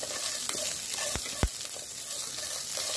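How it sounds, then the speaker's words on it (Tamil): Neem flowers, toor dal and green chillies sauté in ghee with a steady, soft sizzle, broken by a couple of brief louder clicks or taps, and no one speaks. "பச்சை மிளகாவையும் சேர்த்து நல்லா வதக்கிக்கலாம்"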